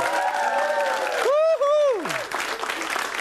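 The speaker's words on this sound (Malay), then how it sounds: "tepukan untuk diri anda sendiri" Studio audience on a Malaysian television variety show applauds and cheers, a burst of clapping joined by a loud whoop or shout rising and falling over the crowd.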